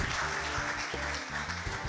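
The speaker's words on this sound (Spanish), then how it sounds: "Fuerte el aplauso." Award ceremony applause for an athlete: a dense, continuous wash of clapping from a crowd, steady and moderately loud throughout.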